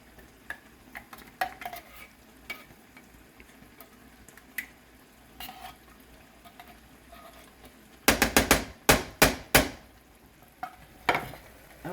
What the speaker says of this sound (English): Okay, we'll stir that in